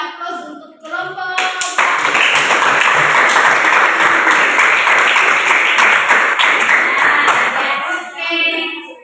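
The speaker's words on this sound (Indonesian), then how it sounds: "kita berikan aplaus untuk kelompok" A class of eighth-graders applauds a student group, with dense sustained clapping building quickly and holding for several seconds before tapering off, and voices briefly at the start and end.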